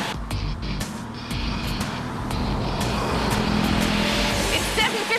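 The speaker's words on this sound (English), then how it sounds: "it sounds very different because the engine, believe it or not, is from a snowmobile." Lightweight Splash car powered by a 750cc two-cylinder snowmobile engine drives past, giving a steady, loud engine drone with road rumble that builds slightly toward the end, no talk over it.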